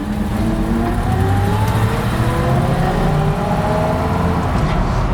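A restored 1956 Ford F100 pickup with a 292 engine, disc brakes and power steering rolls through a church parking lot, its steady engine drone and faint rising whine loud and close throughout, with no talking.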